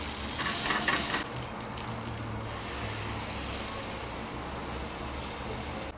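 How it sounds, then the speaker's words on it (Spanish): Blended cream sauce hits melted butter in a hot pan and sizzles loudly in a sharp burst, then settles into a steady, softer frying hiss close by. "Le voy a agregar poquita mantequilla, nomás para guisar crema que acabamos de hacer."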